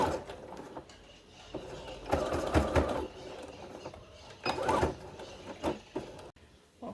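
A sewing machine runs in short bursts while stitching a French seam on a fabric cushion cover, mechanical whirring rising and stopping several times at close range with quiet gaps between runs.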